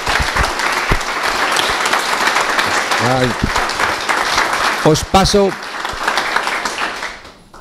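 An audience claps steadily through a political talk event on Spain, continuous applause with a short spoken handover voice breaking in near the end.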